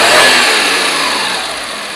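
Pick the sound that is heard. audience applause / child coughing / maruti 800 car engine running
maruti 800 car engine running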